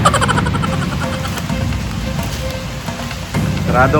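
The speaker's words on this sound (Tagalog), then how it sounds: "Ito ng ulan." Steady rain falling outdoors during a walk, a dense continuous hiss of drops on surfaces filling the whole stretch, with faint muffled voices near the end.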